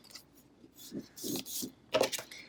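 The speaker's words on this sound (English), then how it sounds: "I just use my scraper to really get it on there." A scraper rubs vinyl onto a glass candy jar in a few short, close, soft scraping strokes, quiet and uneven, with brief gaps between passes.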